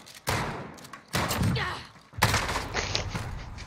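Dragon's Breath shotgun blasts in Modern Warfare, three heavy booming shots spaced about a second apart, loud and close. Game effects and muffled sounds fill the gaps between them.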